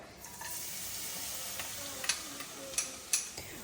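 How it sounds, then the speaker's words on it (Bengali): Garlic frying in hot white oil, a soft continuous sizzle close by with a few light taps and clicks of a utensil, no voices. "রসুনটা মোটামুটি আমার ভাজা হয়ে গেছে।"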